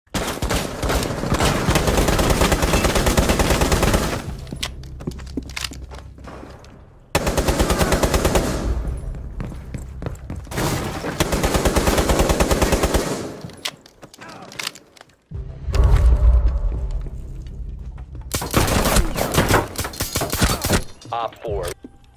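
Automatic gunfire in Rainbow Six Siege comes in long, loud, sustained bursts separated by short pauses, with brief quieter stretches of movement and faint voices between volleys.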